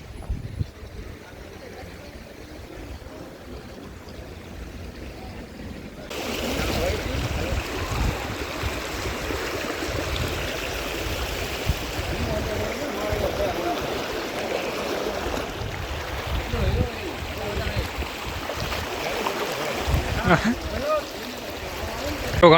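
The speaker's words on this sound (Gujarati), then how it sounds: "પાણી ઘણું બધું જઈ રહ્યું છે." Water pouring out of a village pond in Dahisara, Bhuj, Kutch, a steady broadband rush that swells after a quieter start and runs continuously, with people's voices faintly mixed in the background.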